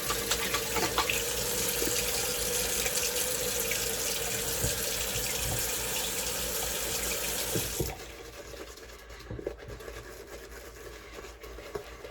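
Water runs from a tap in a steady splashing stream, loud and close, then drops off sharply to a quieter trickle and faint drips.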